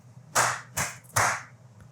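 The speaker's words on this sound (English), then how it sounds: "Why am I clapping?" Hands clapping three times in a slow, deliberate rhythm, sharp and close, each clap ringing briefly with no other sound around them.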